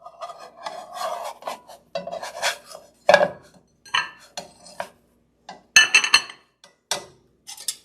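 Large spatula scraping and clanking an omelette around in a pan, a run of irregular metallic scrapes and clinks, close and fairly loud, with no talking.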